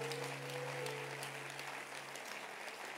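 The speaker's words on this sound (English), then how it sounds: "Keep clapping your hands." Conference audience clapping their hands in steady, dense applause, faint and distant, with a sustained tone humming underneath and no speech.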